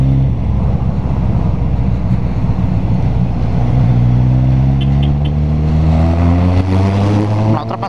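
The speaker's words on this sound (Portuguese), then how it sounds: "Ultrapassagem hard dos motoca." Loud motor engines roar close by in a parking lot as motorcycles pass one another, the revving pitch climbing steadily as they accelerate away, with no talk over it.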